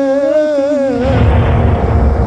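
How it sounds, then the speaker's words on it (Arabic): Ramadan cannon firing: a sung melody gives way to a sudden loud boom, followed by a long, dense, low rumble that lingers to the end. "المدفع مدفع رمضان مدفع رمضان"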